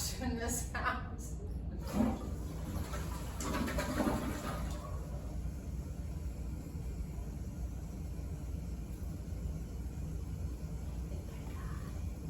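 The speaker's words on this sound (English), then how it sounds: "flush in this house." A toilet gives its first flush in a newly plumbed house with weak water flow, a steady rushing wash of water lasting throughout, with brief talk at the start.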